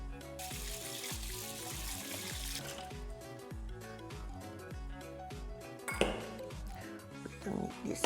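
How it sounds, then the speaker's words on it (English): Hot tomatoes go into a bowl of cold water in a kitchen, with a splash and water running near a sink, dishes clinking and ringing pings, under someone talking. "So we put now in the cold water."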